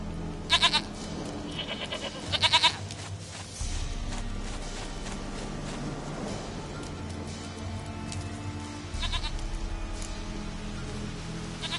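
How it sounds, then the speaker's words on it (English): Goat bleating in the video game The Witcher 3, a few short, quavering bleats in separate bursts over soft rain-like ambience, with nobody talking. "Goat of mine, dearest, sweetest goat."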